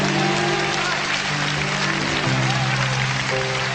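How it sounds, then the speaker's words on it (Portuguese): A church congregation applauds during a Sunday morning service, steady dense clapping filling the room for several seconds with a murmur of voices and sustained tones underneath. "Será que você pode aplaudir ao Senhor nesta manhã?"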